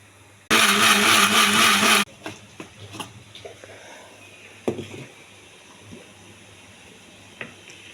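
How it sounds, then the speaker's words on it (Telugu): A mixer grinder blends pomegranate pieces for juice in one loud, steady whir lasting about a second and a half, followed by faint clinks and handling noises. "మిక్సీ జార్లో వేసానండి, మిక్సీ వేసుకోవాలి."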